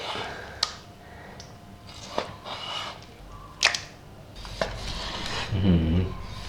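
Scattered crisp knife cuts and crunchy chops on a board through turmeric-braised pork udder, a few sharp clacks standing out, with a low rumble of handling noise between them.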